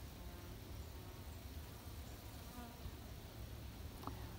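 Honey bees buzzing around a large open-air colony built outdoors with exposed comb, a steady, dense swarm hum that stays even and fairly close throughout, with no voices.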